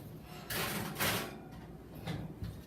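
An oven door swings open and shuts as a sheet of homemade oatmeal cookies goes in, two soft broadband bumps about half a second apart, then a lighter clunk, all fairly faint in a quiet kitchen.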